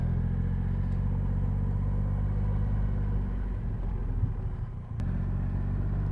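A Triumph Rocket 3 R motorcycle engine drones steadily while being ridden, a loud continuous low rumble with a brief dip and surge near the end.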